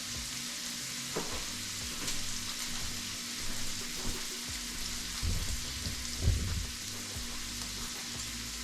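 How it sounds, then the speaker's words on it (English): Bacon and jalapeños frying in a pan for popper tacos, a steady crackling sizzle with scattered pops and occasional utensil knocks, close and unaccompanied by voices. "I'm gonna get the bacon cooked up and then get my jalapenos cooked up"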